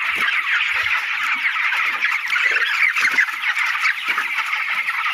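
Dense chorus of broiler chicks on a poultry farm peeping and chirping nonstop as they are chased about, close and loud, with faint rustling and thumps beneath and no talking.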